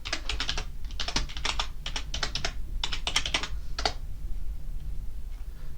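Rapid bursts of keystrokes on a computer keyboard as commands are typed into a Raspberry Pi 5 terminal, clicking in quick uneven runs with short pauses, close and clear with no voices.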